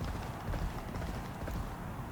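Horse galloping in the horse racing video game Champion Jockey, a steady drumming of hooves with crowd-like rumble underneath, continuous and moderately loud throughout.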